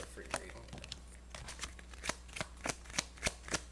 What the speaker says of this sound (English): I'm just giving it a good little shuffle